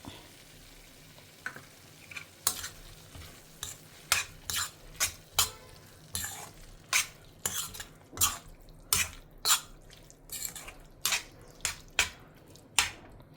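Curd being stirred into an okra tamarind curry (vendakkai puli pachadi) with the stove switched off, a steady run of distinct spoon strokes scraping and clinking against the pot, close and fairly loud, with no talking.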